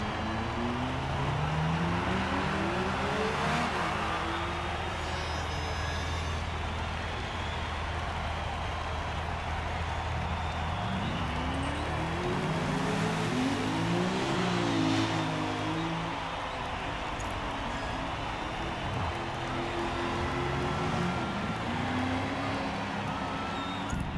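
GT race cars in a Daytona 24-hour racing video game roll and rev as they line up nose to tail, a steady engine drone with rising and falling pitch sweeps from several cars, continuous and fairly loud.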